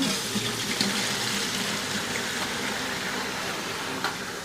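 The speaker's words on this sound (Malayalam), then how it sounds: "വെള്ളം നിറയ്ക്കാമെന്ന് വിചാരിച്ചു." Water runs steadily from a tap into a cooking pot, a continuous close gushing fill with no voices over it.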